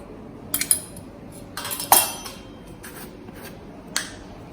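A cooking pot is handled on a gas stove, giving a few sharp metallic clinks and scrapes in short bursts over a quiet background.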